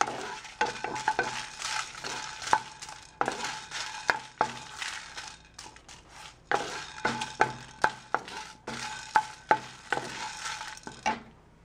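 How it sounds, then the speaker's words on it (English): Red chilies and peppercorns dry roasting in a pan for Kerala parppu podi, stirred with a utensil in bursts of scraping and rattling, with light crackles and sharp clinks against the metal, close and fairly quiet. "So I have finished roasting my red chilies and even my peppercorns for just about 3 minutes"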